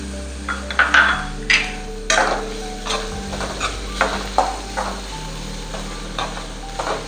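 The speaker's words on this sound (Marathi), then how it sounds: "या सर्व ज्या आपण व्हेजिटेबल भाज्या टाकल्या आहेत त्या मी थोड्याशा परतून घेणार आहे" Carrot, capsicum and cabbage being sautéed for veg manchow soup, a soft sizzle under repeated spoon scrapes and taps against the pan at an irregular rhythm, close and moderately loud.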